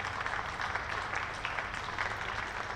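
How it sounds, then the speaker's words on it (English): Applause rises from spectators around a cricket ground during a County Championship match between Hampshire and Durham, a steady, distant patter of clapping that holds evenly throughout. "warm applause for Tom Prest"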